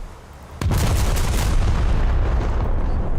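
A naval ship's gun fires in a video game: one sudden, heavy boom that cracks in sharply, then sustains as a loud, rolling rumble for several seconds.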